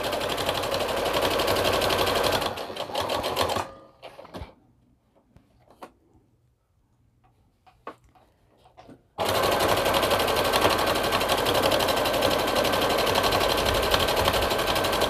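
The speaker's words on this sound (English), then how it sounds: "And I'll just keep sewing." A sewing machine stitching a hooded towel runs loud and steady for about three seconds, goes quiet for several seconds apart from faint handling sounds, then resumes running continuously to the end.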